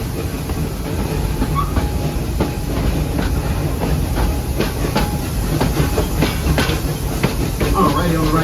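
The Serengeti Express ride train at Busch Gardens Tampa rolls steadily along its rails with a continuous rumble and faint rhythmic clacking, heard from on board under a narrator's voice.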